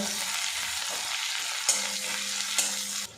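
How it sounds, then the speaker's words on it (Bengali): Chopped onion and garlic fry with dried chilli and bay leaf in hot oil, a steady close sizzle with a couple of sharp spatula knocks against the pan. "এবারে এগুলো আমি হালকা করে ভেজে নেব"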